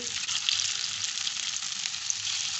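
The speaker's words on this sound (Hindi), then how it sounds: "अच्छी तरह गर्म ऑयल में डाल दें" Gola kebabs sizzle and fry in hot oil, a steady, close hiss of frying that continues without a break and with no talking.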